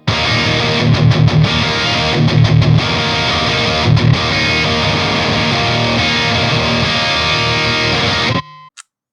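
A distorted electric guitar on its neck pickup plays loud, dense chords for several seconds, ending abruptly with a short ringing tail.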